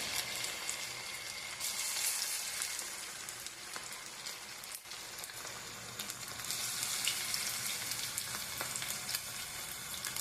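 Ragi punugulu fritters frying in hot oil, a steady close sizzle and crackle that runs through the whole stretch with slight surges, no talking over it.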